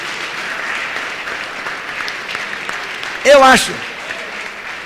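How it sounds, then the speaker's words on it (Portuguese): Applause from a church congregation, a soft, steady patter of clapping spread across the room under a pastor's voice, with a brief louder vocal burst near the end. "Alguém pode aplaudir a Jesus?"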